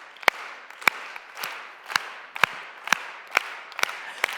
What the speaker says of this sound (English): So let's get a slow clap.